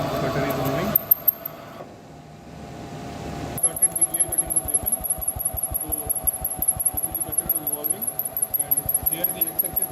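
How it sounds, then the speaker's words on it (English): A gear cutting machine starts up and settles into a regular rhythmic thumping cycle with a high steady whine above it, preceded by a short burst of louder mechanical noise and a brief quiet pause. "So here the machine is going to start now. So you can see the cutter is moving. Started the gear cutting operation."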